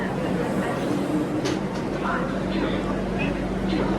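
A train runs on the railway between Jhansi and New Delhi, heard as a continuous, dense rolling roar that stays level and close throughout.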